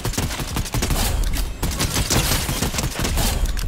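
Sustained, loud rapid gunfire from a weapon in Fortnite, a dense continuous volley of shots with no pauses across the whole stretch.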